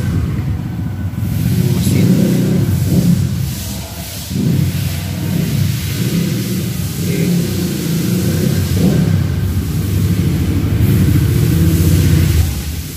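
A Kawasaki W175 TR motorcycle engine idles and revs in uneven swells, a close, steady mid-pitched rumble with no voices.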